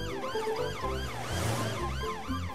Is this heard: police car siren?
yes